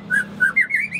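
A songbird, a Singo Edan competition bird, whistles a quick series of clear, high, rising notes in short bursts, close and loud over a faint low hum.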